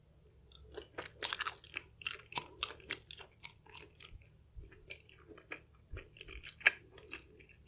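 Close crunchy chewing and biting of sausages at a spicy cheese curry noodle mukbang, irregular wet crunches and squishes coming in quick bursts throughout, with no talking.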